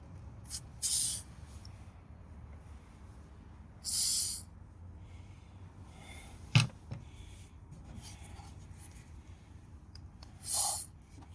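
Dry silicone lubricant spray hitting a plastic fuel door on a Ford F-150, in three short separate hissing bursts, with a small click in between and no talking.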